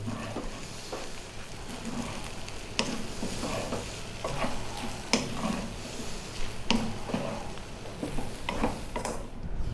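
Chow mein noodles with chicken and green onions are tossed in a pan off the heat, giving repeated scraping, clattering stirs over a low sizzle; no speech.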